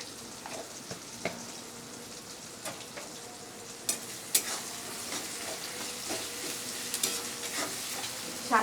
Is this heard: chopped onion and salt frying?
yes